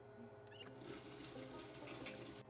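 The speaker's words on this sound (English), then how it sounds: "Fill it with water." Water runs steadily into a container in the video game Project Zomboid, a faint, continuous rushing splash like a tap filling a vessel.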